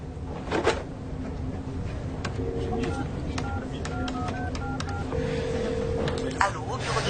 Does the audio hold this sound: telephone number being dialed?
yes